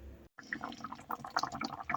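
Pork ribs stewing in sauce over a low flame start to bubble, giving soft irregular blips and pops close by, heard alone.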